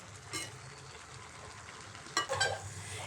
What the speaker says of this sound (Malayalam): തേങ്ങാപ്പീര എല്ലാം ചേർത്ത് കൊടുത്തതിന് ശേഷം നല്ല ഇളക്കി കൊടുക്കാവേ